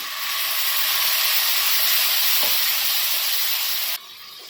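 Loud, broad hissing sizzle as water hits frying masala in a hot pan, steady for several seconds before abruptly dropping to a quieter simmer.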